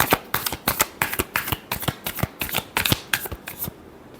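Tarot cards riffled in a rapid run of crisp, papery bursts, a dozen or so quick shuffles close up and fairly loud, ending in a brief quiet tail.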